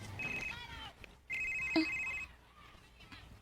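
A cellphone rings with short electronic ringtone bursts over faint room noise and murmuring.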